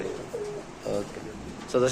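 A giant homa female pigeon coos in several short, soft bursts close by, with a louder coo at the end.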